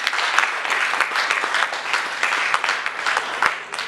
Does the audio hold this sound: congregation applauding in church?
yes